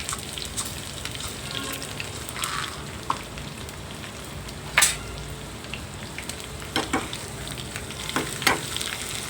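Garlic and urad dal sizzle in hot oil for Andhra-style horse gram sambar, a dense, even crackling hiss that runs throughout, with a few sharper pops and spatula clicks, close and without talk.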